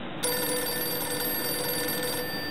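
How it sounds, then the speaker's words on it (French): A telephone rings with a bright, steady electronic tone that starts abruptly and holds for a couple of seconds with no voices. "Le téléphone."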